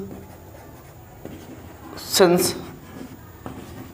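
Chalk or marker scratching out a solution on a board during a maths lecture, a short burst of brisk strokes in the middle against a quiet room, with faint taps before and after.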